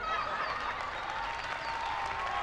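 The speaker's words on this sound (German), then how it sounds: "Der Jubel hinter der Lili wird grösser." A crowd cheers and claps steadily at a moderate distance, a continuous wash of voices and clapping with occasional whistles.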